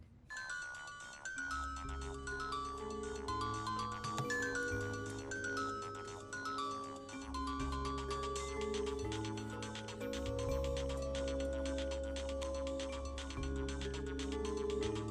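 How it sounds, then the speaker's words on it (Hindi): A mobile phone ringtone plays continuously while a call is placed to a mother, a loud melodic electronic tune with stacked synth notes and a steady beat, running alone without any talk. "मम्मी को फोन लगाते हैं।"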